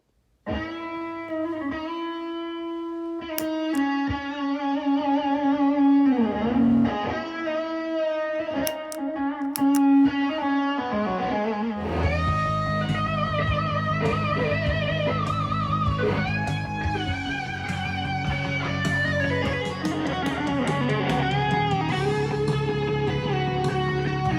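An electric guitar plays through an OCD overdrive pedal, sustained crunchy notes and then thicker distorted chords, riffs, close and steady.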